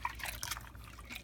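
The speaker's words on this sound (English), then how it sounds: "Just rinse it off." Water from a tap runs and trickles over freshly cleaned jewelry during a rinse, a short, steady splashing pour heard up close with no voices.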